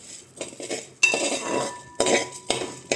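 Lentil payasam (parippu pradhaman) being stirred in a pan, a metal spoon scraping and clinking against the pan in several bursts of rattling strokes, close and fairly loud with no talking.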